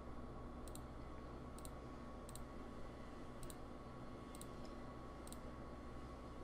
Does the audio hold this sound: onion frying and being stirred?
no